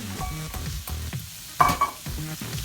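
Bacon fries with wilting vegetables in a pan while being stirred, the sizzle broken by repeated scraping strokes of a utensil, close, with a couple of louder clatters.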